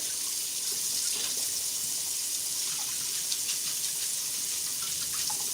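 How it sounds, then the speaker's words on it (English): Hot water runs steadily from a kitchen faucet while buttercream tools are rinsed, a constant hissing splash with small shifts as items pass under the stream, close and moderately loud. "I just use some hot water to rinse it off"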